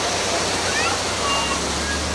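Steady rushing waterfall heard from a Disneyland ride boat, a broad continuous wash of falling water close by, with faint voices in the background.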